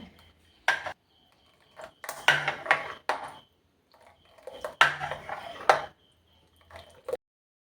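Homemade face and body cream being mixed in a bowl, heard as intermittent clinks and scraping taps of a utensil against the bowl in short bursts with quiet gaps, close and fairly soft.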